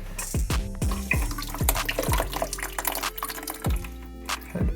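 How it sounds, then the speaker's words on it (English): Water drips and trickles out of a toilet during a repair, with a series of distinct plinking drops over a steady wet splashing, close up. "a little bit more water is gonna run out"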